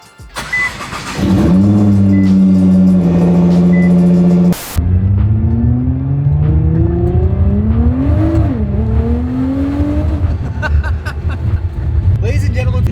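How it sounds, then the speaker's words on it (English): A 2012 Nissan GTR with about 6,000 miles, once owned by the CEO of Greddy, starts up and its engine rises and falls through several loud, close revs and a steady idle, with some talk under the engine noise. "Ladies and gentlemen, this is a 2012 Nissan GTR."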